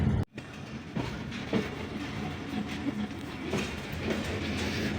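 Train passing Khanpur railway station on a foggy, smoggy morning, heard from on board as a continuous rumble with rhythmic wheel clatter and occasional clicks, steady and moderately loud.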